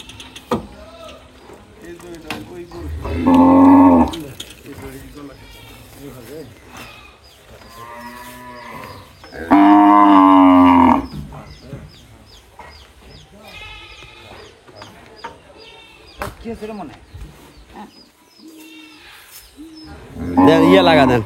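Cows and calves mooing at a farm, several loud, drawn-out moos spaced apart with quieter bleating-like calls and people talking between them.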